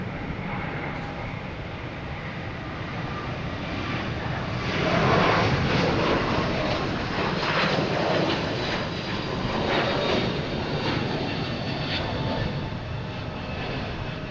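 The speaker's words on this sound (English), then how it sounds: "Air Canada coming in from Toronto on an A220 300." An Air Canada Airbus A220-300 jet airliner arriving at Logan Airport, heard as a steady broadband roar that swells slightly in the middle, distant and continuous with no talk.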